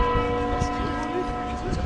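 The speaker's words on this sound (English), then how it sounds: "Just wait for these bells to stop" Church bells ring continuously during a rail trip in Denmark, their steady sustained tones and overlapping partials filling the scene at close range, with a voice speaking over them.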